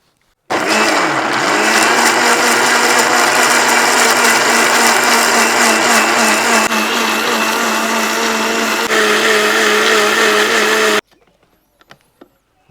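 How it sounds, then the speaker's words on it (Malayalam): Mixer grinder whirring loudly and steadily for about ten seconds as it blends beetroot and other juice ingredients with water, the motor tone holding constant before cutting off abruptly into near silence with a few faint clicks. "ഇതെല്ലാം കൂടെ നമുക്ക് മിക്സിയിലിട്ട് അരയ്ക്കാം കേട്ടോ."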